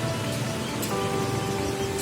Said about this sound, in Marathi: पाऊस पडतोय छान छान